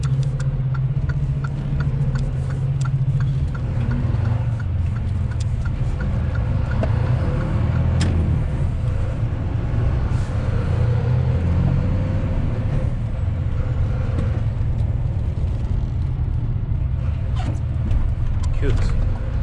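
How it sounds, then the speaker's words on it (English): A car passes on a road near a dangerous bend, heard from inside an idling HGV delivery truck, its steady low engine rumble dominating while the passing vehicle rises and fades. "Just have to wait for this car to pass."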